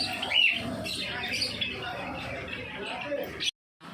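Madrasi pigeons calling in a bird shop, with faint chirps and squawks mixed into a busy background of voices and shop noise, ending in a sudden moment of silence.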